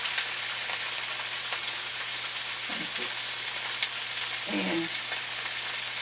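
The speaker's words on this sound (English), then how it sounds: "just dump my vegetables over here. This is my onions and my peppers." Onions and peppers sizzle in a skillet as a steady, moderately loud frying hiss throughout, with a few brief clatters and a short spoken word.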